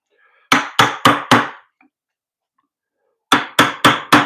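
Mortise chisel driven into wood by hammer blows: four sharp, evenly spaced strikes, a pause of near silence, then another run of four strikes, close and loud with no talking.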